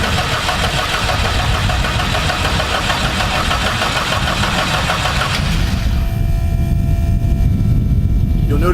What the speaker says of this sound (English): So the first time I turn over the prop, it doesn't start because there's no fuel.